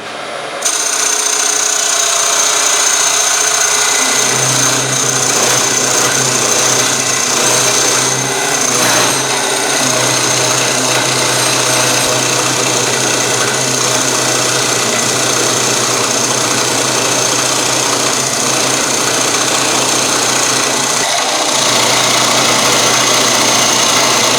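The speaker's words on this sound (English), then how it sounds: "Let's start cutting. Speed is about 900 RPM. Expect a little bit of dust and noise, but let's get going." A wood lathe spins at about 900 RPM while a tool cuts out the core of a bowl blank, giving a steady loud hum with a rough grinding texture that holds for the whole stretch with no talk.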